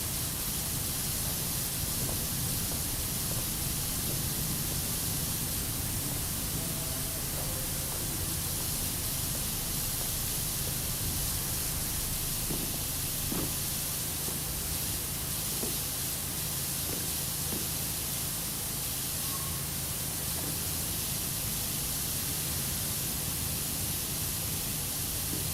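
A steady broad hiss of a power washer spraying in the PowerWash Simulator video game, continuous and even throughout with no breaks, faint distant clicks now and then underneath.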